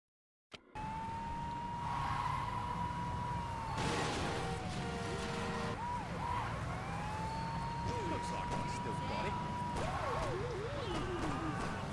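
In the video game Saints Row 2, an ambulance siren wails in a wavering, repeating tone. It plays close and continuous over game noise while voices talk over it.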